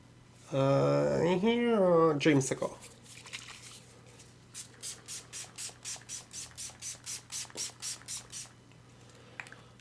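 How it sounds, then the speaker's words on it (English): After a brief sung-like voice, a series of quick, rhythmic pumps of makeup setting spray onto a face hisses close by, about a dozen short bursts in a steady pattern. "help hydrate my face a little bit first with some Slay All Day Gerard Cosmetic Setting Spray"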